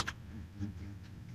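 A few quick keystrokes on a computer keyboard, soft and close, give a brief burst of clicky typing over a quiet room.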